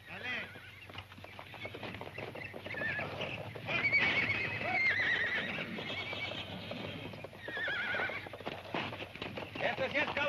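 A chestnut horse being ridden neighs and whinnies loudly while its hooves clip-clop steadily nearby, with people talking and calling out over the sounds.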